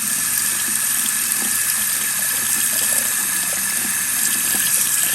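Tap water running steadily into a sink while waiting for it to turn warm, a constant close hiss with faint splashing throughout and no talking.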